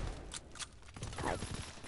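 Gunfire rattles through a Call of Duty match in several short bursts of shots, with a busy, moderately loud game soundscape and no clear talk.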